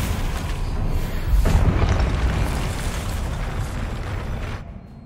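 Burst of magical impact from the Expelliarmus disarming spell in Hogwarts Legacy, a deep boom swelling then settling into a rumbling tail before fading out, loud and without talk.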